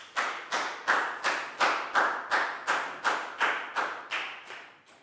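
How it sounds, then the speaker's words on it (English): Students in a Year 4 math classroom clap together in a steady, even rhythm, about fourteen sharp claps close by, with no talking over them. "High five and a big round of applause for Pak Bung, please, guys."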